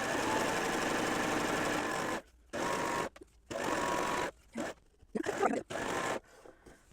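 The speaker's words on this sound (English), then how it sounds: "sew this right sides together" A serger stitches apron fabric sewn right sides together, its fast mechanical whir running in bursts separated by short silent pauses.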